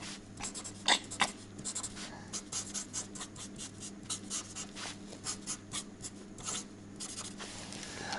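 Silver paint marker squeaking and scratching across a car sales sign at a used car lot, close and quiet, in short irregular strokes with brief pauses and no voices.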